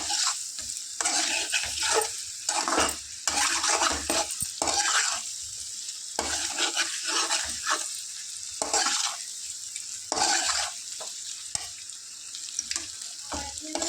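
Chicken curry ingredients, ginger and turmeric among them, fry and get stirred in a pan, with a steady sizzle broken by repeated scraping stirs, close and fairly loud throughout.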